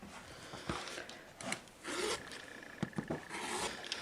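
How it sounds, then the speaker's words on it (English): Fabric quilt blocks being trimmed square, heard as soft close rasping and scraping strokes in short separate passes with quiet gaps between them. "Once I have 2 sides trimmed, I can rotate it around and trim the other 2 sides."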